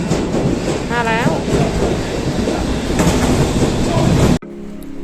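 A train at a London station rumbles and clatters loudly up close, with a brief squeal of wheels, before the noise cuts off abruptly near the end.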